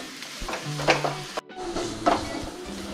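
Grated coconut frying in a pan for Malabar chicken curry, a steady close sizzle broken by scraping stirring strokes and a brief clatter of the spoon against the pan.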